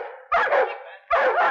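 Dogs bark twice in loud, close, sharp bursts about a second apart, each bark rough and full, with near silence between them.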